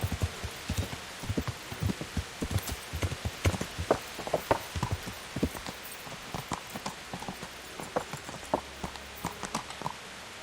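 Horse hooves clip-clop at a steady walking rhythm in the medieval game Kingdom Come Deliverance, fairly quiet and close, with soft rain pattering in the background and no talk.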